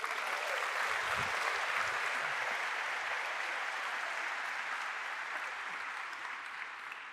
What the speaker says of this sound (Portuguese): Vamos aplaudir o Anderson aqui